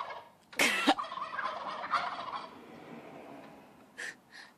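Turkey gobbling close by outdoors, one loud rattling gobble call followed by a softer trailing warble and two brief later calls, with a quiet background.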